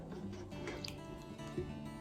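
Water trickles and drips onto fine potting soil over thinly spread basil seeds in an indoor container, a soft, close, continuous wet splashing with small squishy drips.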